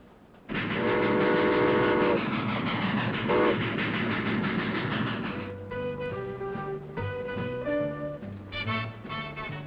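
A train rumbles loudly with a steady roar and rhythmic clatter, its horn sounding in sustained blasts as the wheels keep rolling.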